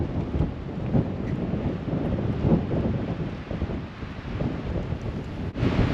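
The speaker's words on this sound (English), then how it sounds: "It's blustery and windy, so it might affect some of the sound." Strong gusty winter wind buffeting outdoors beside Crater Lake, Oregon, a continuous rumbling roar with rising and falling gusts, close and loud.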